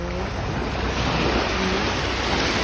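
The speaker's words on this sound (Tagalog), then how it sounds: "Nagagalit, nagagalit yung dagat." Rough sea surf churns and crashes steadily along the shore at Boracay's Station Zero, a continuous loud wash of breaking waves mixed with wind buffeting the microphone.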